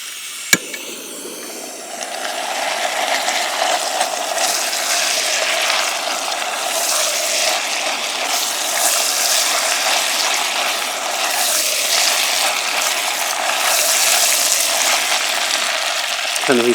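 Pasta stirred in a pot over a Primus Lite Plus camping stove for carbonara, a steady close hiss of the burner with light scraping and bubbling throughout, no talking.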